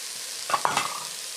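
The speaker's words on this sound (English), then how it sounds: "Give a little stir." A few quick scrapes of a utensil stirring food in a hot pan, set over a steady background sizzle of frying, close and fairly loud.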